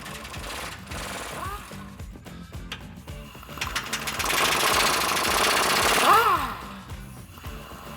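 Wrenching on a differential bolt of a 2005-2019 Toyota Tacoma Pre-Runner/4WD during a suspension lift, with a 19mm nut and 22mm bolt; rapid mechanical rattling and ratcheting noise swells loud mid-clip, with a squeak near the end.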